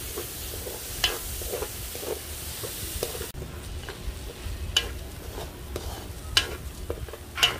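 Washed rice simmering in a pot for Filipino shrimp lugaw, a steady low bubbling hiss with a few sharp clinks and scrapes of a spoon stirring against the pot.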